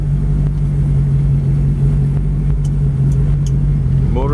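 Steady low engine drone of an open 1932 Ford Brookville roadster with a ZZ-430 engine cruising along, constant and fairly loud, with a few faint clicks and a rising whine near the end.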